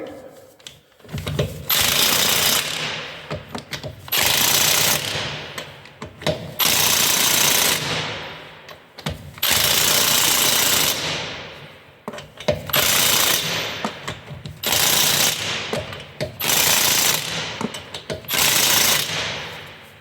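A power impact wrench tightens the wheel nuts on a motorhome, hammering loudly and close in roughly eight harsh bursts, each lasting one to two seconds, with brief gaps between them.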